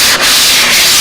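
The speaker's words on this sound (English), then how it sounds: "Just the slightest little bit of sanding." Sandpaper rubbing lightly across a doped model airplane surface, a close, continuous hissing scrape that briefly dips once as the stroke changes direction.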